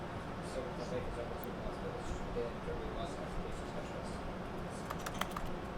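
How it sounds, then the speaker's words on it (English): Rapid keyboard typing from The Stanley Parable video game, a steady patter of soft key clicks running throughout at moderate level beneath a faint background bed. "If I hit X, it does typing"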